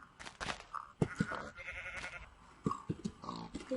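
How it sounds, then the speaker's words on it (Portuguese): Sheep bleating inside the Minecraft video game, a few short wavering bleats rising over faint background game noise and clicks, with brief bursts of other sounds between the calls. "Ah, tem ovelha, outra ovelha."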